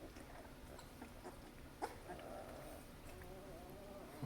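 A Great Dane puppy whines softly from a whelping box among littermates, with faint whimpers and a brief yip over low background noise.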